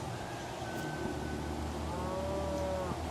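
A cow moos near a farm, with two long drawn-out calls at moderate distance over steady outdoor background noise.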